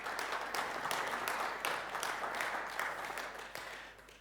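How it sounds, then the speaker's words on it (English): An audience bursts into sustained applause at a church gathering, dense crowd clapping holding steady for several seconds before gradually thinning toward the end. "let's just applaud them"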